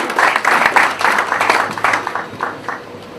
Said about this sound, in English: Let's give a warm round of applause in terms of Karibuni.